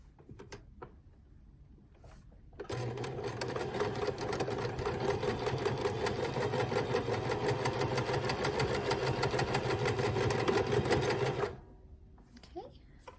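A sewing machine runs steadily for about nine seconds as it stitches quilt strips together, a dense rapid whirring hum with quiet handling sounds before and after.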